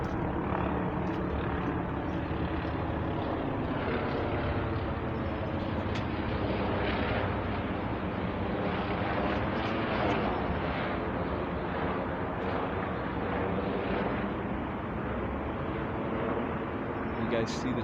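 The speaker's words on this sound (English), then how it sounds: "You guys see the chopper?" A helicopter drones steadily overhead near a canal towpath trailhead, its continuous rotor roar filling the whole stretch without a break.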